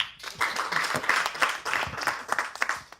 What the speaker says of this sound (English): And another special applause for UNESCO in the room.